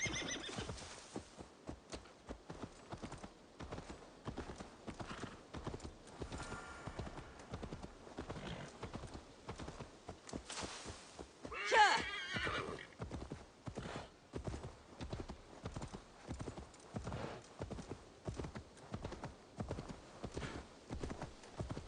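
Steady rhythmic clip-clop of horse hooves trots on throughout in the video game Assassin's Creed Valhalla, with a horse's whinny rising briefly in the middle; no talking.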